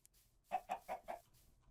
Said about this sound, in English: There's a chicken. A couple of chickens.